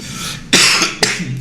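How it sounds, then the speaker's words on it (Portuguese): Two sharp, loud coughs from a person still recovering from an illness with a lingering cough, spaced about half a second apart, close to the microphone with no speech. "A tosse tá aí ainda."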